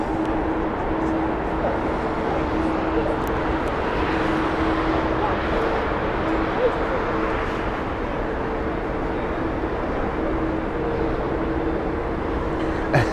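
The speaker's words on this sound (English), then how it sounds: "this is the Airbus A320-200 Neo on final from Milan" An Airbus A320-200neo on final approach at Heathrow, arriving from Milan, makes a steady broadband engine roar with a faint sustained whine, continuous and moderately loud, while someone talks over it.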